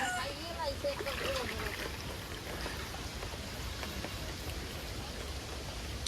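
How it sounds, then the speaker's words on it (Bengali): Steady rain falls in a village, a continuous even hiss of drops on surfaces and a faint distant voice early on. "বৃষ্টি আর বৃষ্টি, খেলে বৃষ্টি থামে না মোড়ে, বৃষ্টি হইতেই আছে"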